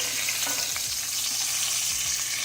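Seafood pieces for a rustic stew sizzle steadily in a hot pan, a continuous close hiss with faint crackles throughout and no voices.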